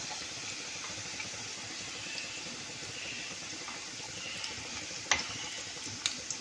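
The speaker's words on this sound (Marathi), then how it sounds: "तेलामध्ये किती भजी बसतील तेवढी सोडली तरी चालतात." Sponge gourd bhaji frying in hot oil, a steady soft sizzle and bubbling throughout with a few faint clinks near the end.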